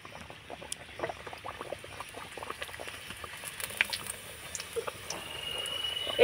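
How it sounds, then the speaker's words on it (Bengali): Bhelpuri drops into medium-hot oil and fries with a light, irregular crackle of small pops and sizzles, fairly close, growing busier and louder toward the end. "এবার আমি তেলের মধ্যে ছেড়ে দেব।"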